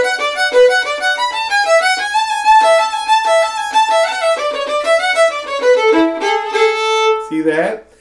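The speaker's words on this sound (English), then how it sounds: "he plays the kind of American version of Devil's Dream" A fiddle plays the American version of the tune Devil's Dream, a fast, bright run of clear bowed notes, loud and close, ending on a short lower phrase.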